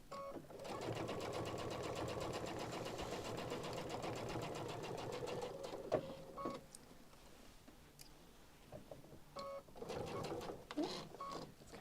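A sewing machine runs steadily while stitching a quilt seam at about a 3.5 stitch length, a loud continuous whir for several seconds before stopping and restarting in shorter bursts.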